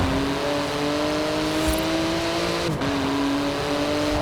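A Porsche GT2 RS in Forza Horizon 4 holds a steady, loud engine drone with a brief dip as it shifts gear, then climbs again.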